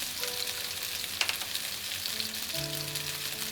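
Scallions and ginger hit hot oil beside pan-seared chicken wings, a steady close sizzle with a brief clatter of stirring partway through.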